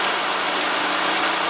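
A 2016 Honda Civic's 2.0-liter inline four-cylinder engine runs in a brief, steady, loud stretch of even engine noise with a constant hum and no voices.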